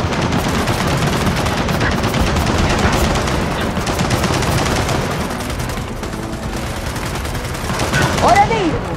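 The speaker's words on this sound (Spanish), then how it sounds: "¡Nidos de ametralladoras!" Sustained machine gun fire from machine-gun nests in the Gears of War 4 video game rattles loudly and without a break, a dense battle din that swells near the end.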